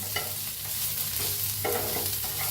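Onion and coconut roasting in oil in a pan, a steady close sizzle with soft scraping stirs and occasional crackles throughout.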